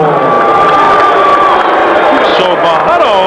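A live boxing crowd erupts after a knockout, a loud, dense roar of cheering and shouting that swells and holds, with voices rising above it.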